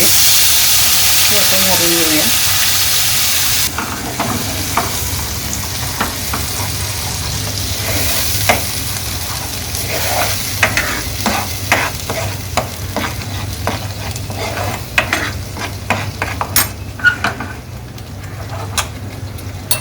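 A ground masala of onion, coconut and coriander hits a hot pan with a loud hiss that settles into steady frying, punctuated by repeated stirring scrapes close by.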